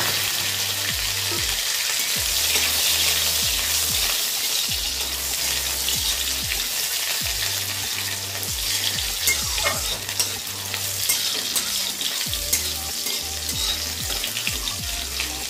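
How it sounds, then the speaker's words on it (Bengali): Garlic fries in hot oil in a pan for fish chorchori, a loud, steady crackling sizzle up close, broken by regular low knocks and scrapes of a spatula stirring, with no voices. "আর রসুন ফোড়ন দিয়ে দিলাম।"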